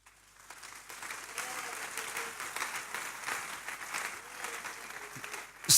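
Church congregation applauding the Lord, clapping that swells after a quiet start and holds at moderate loudness, with some voices mixed into the crowd and a sharp loud burst at the very end.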